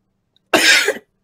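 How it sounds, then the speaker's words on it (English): A single harsh cough, loud and close, lasting about half a second against silence. "Really good coughing."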